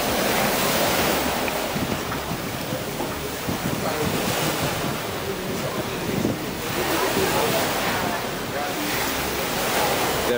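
Beach surf rolling in under strong wind at about 5 p.m. on a sandy, not very rocky shore, waves rough ahead of the southwest monsoon: a continuous loud wash with wind buffeting the microphone and swelling breakers.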